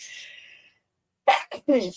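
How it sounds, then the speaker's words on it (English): A single sharp sneeze bursts out after a brief quiet stretch, followed by a short breathy catch, close and loud. "I have been sneezing like that from time"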